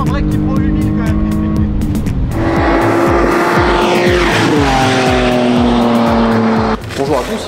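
A BMW M3 E46 Touring estate laps the Mirecourt race circuit in the Vosges, its engine revving hard through upshifts and a falling pitch as it passes close by, loud, with voices talking over it.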